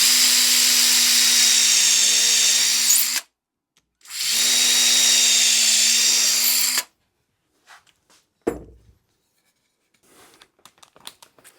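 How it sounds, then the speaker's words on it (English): A power drill bores a pilot hole through two butted pieces of 18mm board on a workbench, whining loudly in two sustained bursts separated by a short pause, followed by quiet clicks and handling noises. "Just going to drill a pilot hole through here"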